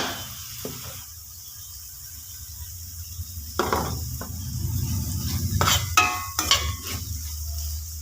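Ground coconut paste is stirred into a pan of bitter gourd theeyal curry: soft scraping and stirring strokes with a light sizzle, quiet at first and then busier, close up, with no talking.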